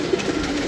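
Soft pigeon cooing close by, a short murmured coo rising once over a quiet indoor background.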